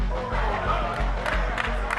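Crowd cheering and shouting in a congregation while a pastor smashes a statue with a hammer, the roar loud and continuous with sharp blows punctuating it.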